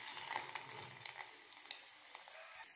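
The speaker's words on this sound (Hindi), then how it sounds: "अब मैं इसमें मंचूरियन को डाल करके डीप फ्राई कर लेती हूँ।" Egg manchurian balls deep fry in hot oil, a quiet, distant bubbling sizzle with small crackles and pops scattered across a few seconds.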